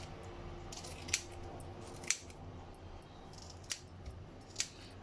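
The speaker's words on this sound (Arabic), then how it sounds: "بقصقص الحاجات دي ببقى عامله مقص واحد للسمك" Kitchen fish scissors snip through fish in a home kitchen, four or five sharp, crisp clicks spaced irregularly over a quiet background, close and distinct with no speech.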